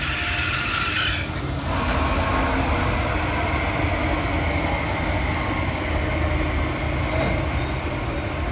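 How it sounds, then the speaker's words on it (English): A SEPTA regional rail New York train passes at Bryn Mawr with a steady broad rumble and rushing roar, a brief higher hiss early on, sustained throughout without voices. "New York train."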